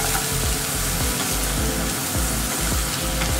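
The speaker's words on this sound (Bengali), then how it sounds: "এখন এটাতে আমি এই সব রসুন কুচিগুলো এটাকে হালকা করে ভেজে নেব" Chopped garlic frying in a pan, a steady close sizzle with small crackles and pops throughout, no voices.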